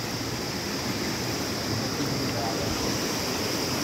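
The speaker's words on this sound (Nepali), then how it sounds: "खोला यहाँ खोला छ" A river runs through dense jungle, its flow a constant, even rush of water that fills the scene without pause or change in level.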